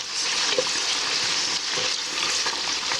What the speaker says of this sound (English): let it fry up for a while.